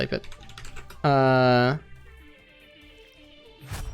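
Quick light keystrokes on a computer keyboard during an Overwatch gaming stream, soft scattered clicks under someone talking, with a short bright tonal chime partway through.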